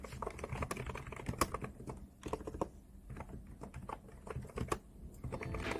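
Someone types quickly on a novelty computer keyboard at an office desk, producing a rapid, uneven patter of crisp, close keystrokes with brief pauses, and no one talks.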